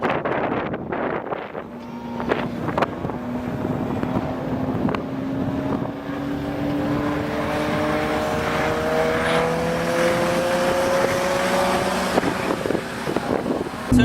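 An engine note on the Silverstone circuit climbs steadily through a long acceleration out of a left-hand turn, with heavy wind rush over the microphone and no talk.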